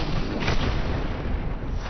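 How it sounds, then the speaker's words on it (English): Rocket launcher fire in the video game Forgive Me Father 2: dense, continuous low booming blasts and rumble with no pause, loud and close throughout. "Did I just find a rocket launcher?"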